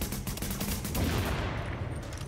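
Gunfire and explosions rattle through The Division video game, a dense, continuous burst of shots layered over booming low rumble, loud and sustained throughout.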